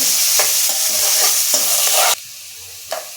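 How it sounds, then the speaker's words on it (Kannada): Onion and green chillies fry in a pan with a constant loud sizzle, broken by several scraping stirs before the sizzle abruptly drops quieter. "ನೋಡಿ ಫ್ರೆಂಡ್ಸ್ ಈರುಳ್ಳಿ ಫ್ರೈ ಆಗಿದೆ"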